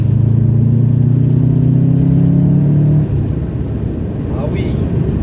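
Loud, close engine drone from a Subaru Impreza WRX pulling hard for about three seconds, then dropping away to a lower rumble as the revs fall; no speech.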